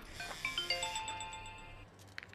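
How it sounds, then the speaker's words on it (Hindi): A mobile phone rings with a bright, melodic ringtone of rising and falling tones that plays for about two seconds, fairly close and clear, then stops abruptly. "ओए होए, मेरा फोन ही आ गया"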